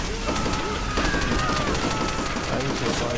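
Weapons fire in the Call of Duty: World at War campaign: dense, continuous bursts of rapid gunshots and overlapping volleys that keep going without a break for the whole stretch.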